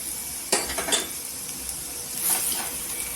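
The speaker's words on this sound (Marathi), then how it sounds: "आणि एक दोन सेकंड त्याला फक्त तेलावर बटाटीला फ्राय करून घ्यायचं" Boiled potato pieces for vada pav sizzle briefly in hot oil in a pan, with a sharp utensil clank near the start, another shortly after and a scraping stir later over the steady fry.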